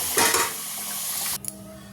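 Fried potatoes are lifted out of hot oil in a pan: a loud, steady sizzle with stirring and scraping, then it cuts off sharply, followed by a faint metal clink and the quieter crackle of the oil.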